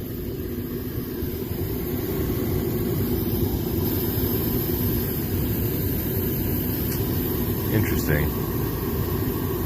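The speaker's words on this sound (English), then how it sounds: "I know my blower is going." A household HVAC blower runs with a constant low, rumbling drone that stays even throughout, while a person speaks briefly over it.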